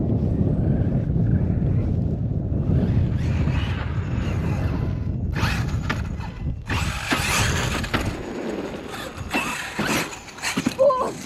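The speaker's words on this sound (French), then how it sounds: "il y a du vent, c'est glacé." Cold wind gusting outdoors at a remote-control model flying session, a steady low roar of wind on the microphone that turns into harsher, rougher gusts in the second half.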